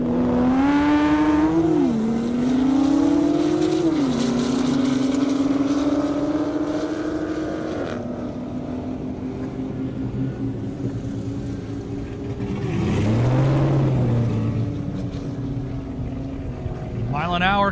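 A Dodge Hellcat and a Porsche 911 race on a half-mile airstrip, engines revving loudly with rising pitch through several gear shifts, then a second pass swells up close near the end, with a voice talking over the noise.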